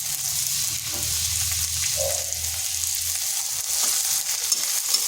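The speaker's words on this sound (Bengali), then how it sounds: "পেঁয়াজটাকে হালকা ভেজে নিচ্ছি।" Onion frying lightly in a small amount of oil with whole cumin and a medium potato, a steady close sizzle with a low hum underneath and a few stirring scrapes.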